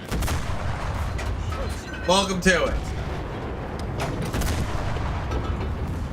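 A cannon firing in the video game Enlisted, a loud booming burst around the middle amid ongoing battle noise, with someone talking over it.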